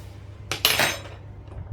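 Knife chopping zucchini in a kitchen: a few quick close clicks and a scraping sweep across the board, brief and fairly quiet against a low background hum.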